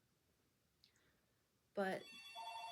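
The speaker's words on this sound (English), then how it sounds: "And there's the phone." A household telephone rings indoors during a home baby quilt demonstration, a sudden loud trilling ring that keeps going, following a brief bit of quiet talk.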